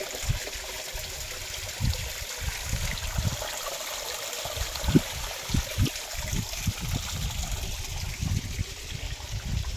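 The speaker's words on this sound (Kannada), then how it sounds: "ಮತ್ತು ಅಲ್ಲಿ ಕೂಡ ನೀರು ಬರ್ತೈತಿ ನೋಡ್ರಿ" Water trickles and splashes steadily near a temple, with irregular low thumps and gurgles running through a continuous wet wash, fairly close and alone.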